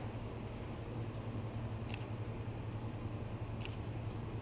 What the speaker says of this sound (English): I don't know if you can hear the click of the shutter.